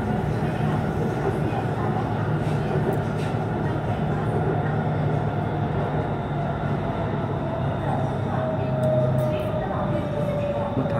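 A Bangkok BTS Skytrain on the Silom Line rumbles steadily past on its elevated track with a continuous low hum and a rising whine, against a busy city background.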